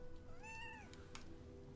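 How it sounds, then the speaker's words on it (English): A cat gives one clear, drawn-out meow nearby at low volume over a quiet background, with no speech. "Oh, kitty cat."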